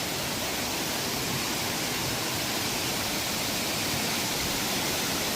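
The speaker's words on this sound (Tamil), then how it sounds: "ஸோ அருவி அப்படியே வந்துட்டு தண்ணி." A dense, unbroken rush of a mountain waterfall on Pothigai Hill roars steadily throughout, loud and even, with no voices or other sounds.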